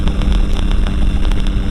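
Light aircraft engine held at climb power and being eased back around 4,400–4,500 rpm, a loud steady drone filling the cabin close up with no talk over it.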